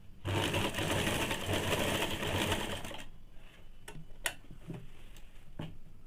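A sewing machine stitches the shoulder seams of a two-piece Bombay cut blouse with a fast, close, continuous whirring run for about three seconds, then stops, followed by scattered ticks and clicks.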